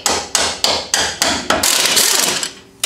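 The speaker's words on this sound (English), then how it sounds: "I can now tap and remove this upper bolt." Several sharp metallic hammer taps drive out a rear trailing arm bolt on a 2002 Mitsubishi Lancer, five evenly spaced loud strikes followed by a brief rattling scrape as the bolt shifts.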